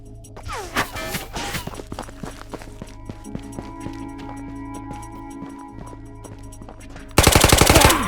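Suppressed gunfire in the VR shooter Ghosts of Tabor, a run of muffled, rapid shots with footsteps and movement scattered through, then a loud dense burst of automatic fire near the end.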